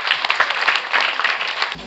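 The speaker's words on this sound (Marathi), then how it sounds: "जरा प्रमुखांसाठी जोरदार टाळ्या झाल्या पाहिजे" Loud, dense applause from a theatre audience at a women's awards ceremony honouring the chief guests, a continuous wash of many hands clapping up close.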